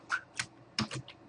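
Typing on a computer keyboard: a short run of about five crisp, close key clicks in irregular rhythm, with no voices.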